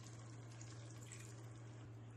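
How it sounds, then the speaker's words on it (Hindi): Water pours steadily into a pot of potatoes frying on a high flame, a continuous faint rushing and sizzling hiss with a low hum beneath it. "अभी हम इसमें थोड़ा सा पानी डाल देते हैं"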